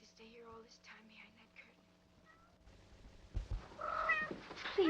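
Indoor scene with pet cats making soft meows and mewing cries scattered through, under low murmured voices and room tone, getting busier and louder toward the end.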